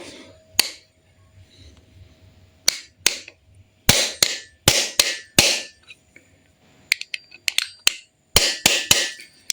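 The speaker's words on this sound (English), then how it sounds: "Now with the hammer." Sharp metallic hammer strikes during a MultiJet JTD diesel engine rebuild, irregular bursts of several quick taps separated by pauses, close and loud with no talking.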